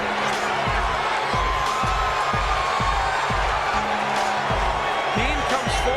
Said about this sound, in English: The crowd's encouraging him.